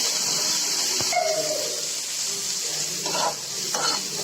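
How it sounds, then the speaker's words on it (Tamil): Onions, green chili and chopped curry leaves sizzle steadily in a hot pan for egg noodles, with a constant frying hiss and occasional spoon scrapes and stirring clatter, close and without talk. "போட்டு இப்போ லைட்டாக வதக்கிக்கலாம்."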